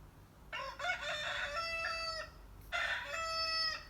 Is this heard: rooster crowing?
yes